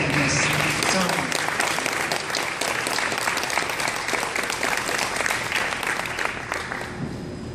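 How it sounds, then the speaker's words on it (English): A large crowd applauds steadily at a nursing doctorate conferral ceremony, dense rapid clapping that holds strong throughout and thins slightly at the end. "how about a warm round of applause for all"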